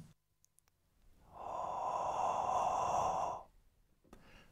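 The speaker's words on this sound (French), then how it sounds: "prenez de l'air lentement en faisant du bruit comme ceci" One slow, noisy inhalation drawn in over about two seconds, heard close and alone in an otherwise quiet room.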